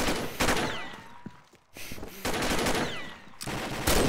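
Rapid bursts of automatic gunfire in the online shooter Combat Arms, several loud volleys separated by short pauses, alone without speech.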